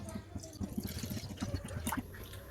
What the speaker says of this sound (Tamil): ஒரு முக்கால் லிட்டர் அளவு திக்கான பால் சேர்த்துப்போம்